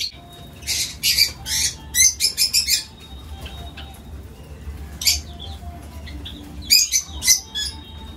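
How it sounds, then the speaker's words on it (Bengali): A colony of lovebirds in an aviary: bursts of shrill, sharp chirps and squawks in clusters, close and loud, separated by quieter stretches of faint rustling. "আর এখানে দেখো লাভবার্ড পাখিরা সব বসে আছে"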